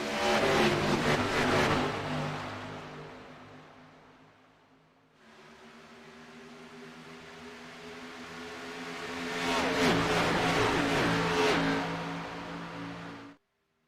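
A pack of NASCAR stock cars in the iRacing sim roars up to full throttle at the green flag at Chicagoland, loud engines swelling, easing, then surging again as the field accelerates past, with no talk.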